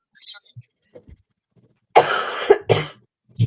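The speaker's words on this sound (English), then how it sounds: "I am so sorry about the cough." A few loud, harsh coughs burst out close up after some faint breathy sounds and near silence.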